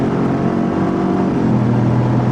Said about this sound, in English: It's so cool to watch it shift that many times.